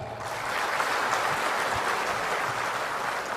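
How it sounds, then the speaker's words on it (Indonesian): An audience at a national government work meeting claps steadily in a dense burst of applause lasting a few seconds, close and fairly loud. "Tepuk tangan untuk Sumatera."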